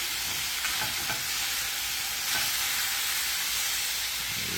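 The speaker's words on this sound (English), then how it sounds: "I'm going to hop over here and flip these right quick." Hamburger steaks sizzle loudly and steadily in a hot pan after being flipped, a dense continuous hiss broken by a few faint clicks.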